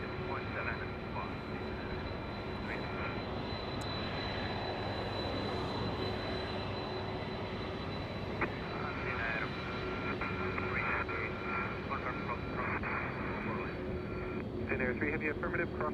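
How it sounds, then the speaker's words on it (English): A Delta Boeing 767 with CF6 engines rolls out after touching down on runway 25L at Los Angeles International Airport, a distant, steady jet roar lasting throughout, with voices talking over it. "Delta Airlines lovely CF6 engines in the distance. That's a 767 after touching down on 25 left from New York City."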